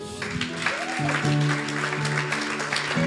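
A church congregation claps and cheers in acclamation of the Lord, the loud, dense applause continuing over steady background music for the whole stretch.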